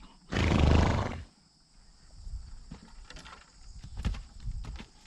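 Horses are heard close by: a loud snort or whinny at the start, then softer shuffling, hoof thuds and breathing sounds in a quiet outdoor setting.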